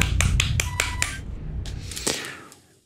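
One person claps for themselves during a game session: a quick burst of about half a dozen sharp, close claps, then a pause and a few scattered softer claps that fade out.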